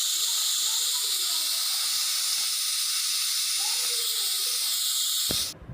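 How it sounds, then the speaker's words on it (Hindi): A pressure cooker whistles steadily on the stove while mutton biryani cooks, a loud continuous high hiss of escaping steam that carries on for several seconds before cutting off abruptly. "तो अब यहाँ पे 1 सीटी लगा लेंगे।"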